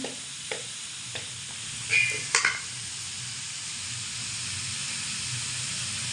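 Vegetables frying in a pan for vegetable chops, with a steady soft sizzle and hiss throughout and a few brief clinks and stirring scrapes near the start, no voices.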